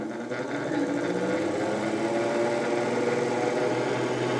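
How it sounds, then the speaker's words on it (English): A rebuilt 1911 Champion variable speed blower runs with a steady, even mechanical whir and hum, smooth and not rattly, holding a constant level for a few seconds with no talking. "I've heard a lot of modern blowers a lot louder and more rattly than this thing."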